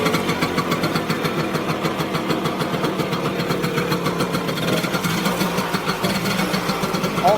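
A Simson moped with a two-speed transmission, parked outdoors, runs steadily with its small engine chugging in a fast, even rhythm at close range, loud and continuous with no talking.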